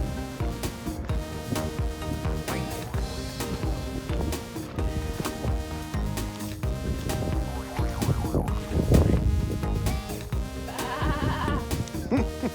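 Sheep at a farm nature sanctuary bleat repeatedly in wavering, nasal calls, several overlapping and fairly close, over breezy outdoor background noise.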